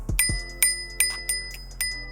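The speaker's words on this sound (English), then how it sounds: "The bell right here," An electric scooter's handlebar bell, on a WideWheel Pro, rings in sharp bright dings, about six strikes in quick irregular succession, close and clear with no talking.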